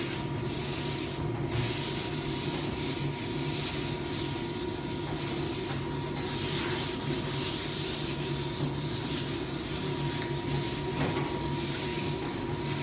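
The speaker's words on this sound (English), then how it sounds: "I'm not putting a lot of pressure in my sanding." Steady, light scratchy rubbing of 400-grit sandpaper on a polyurethaned wooden door in an 1884 house, continuous and close, with gentle back-and-forth strokes and no talking.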